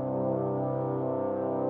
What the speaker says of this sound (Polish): usłyszeli dziwny, głęboki dźwięk trąb